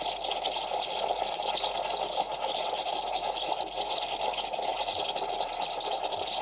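Milk being frothed for coffee with a hissing, bubbling wash of noise that runs continuously and fairly loud, with a steady low hum beneath it.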